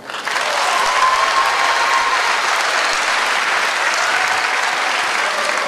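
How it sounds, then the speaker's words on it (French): An audience at an evening event bursts into loud, sustained applause, a thick continuous roar of clapping that rises quickly and stays full and even. "on les applaudit encore bien fort s'il vous plaît"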